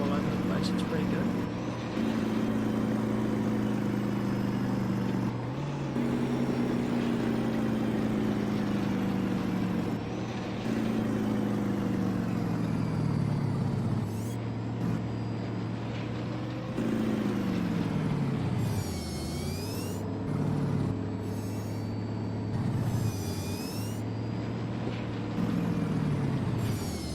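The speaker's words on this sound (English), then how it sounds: "The battle truck. Custom Fmod sound, good to go." Custom battle truck engine in American Truck Simulator, a loud droning diesel note rising and falling through gear changes, with air brake hisses and whistling turbo sweeps, continuous and close, someone talking over it.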